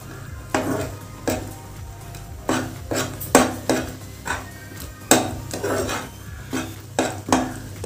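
Poha kheer with almonds being mixed in a pot, a spoon scraping and clanking against the metal in repeated strokes of about one per second, close and fairly loud with no talking.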